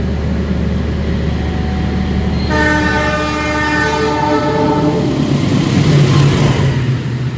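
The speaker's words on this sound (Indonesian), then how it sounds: "kereta kita bakal disusul oleh kereta api Turangga" A passenger train runs on rails as the Turangga express overtakes the Majapahit economy train between Malang and Jakarta, with a steady heavy rumble, a sustained loud horn and a rising clatter of passing wheels close by.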